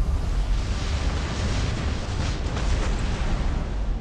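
Weapon fire and explosions in the War Robots game, heard as a dense, continuous roar of blasts with a heavy low-end rumble and no clearly separated shots.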